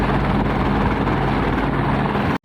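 Rescue helicopter flying over a pilgrimage area in Uttarakhand where pilgrims are stranded. Its rotor drone is steady, loud and close, with dense low throbbing that lasts until an abrupt cut at the end.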